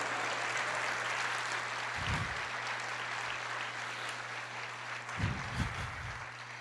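A church congregation applauds during a sermon, a broad, steady wash of many hands clapping together that holds at an even level, with brief low thumps standing out twice.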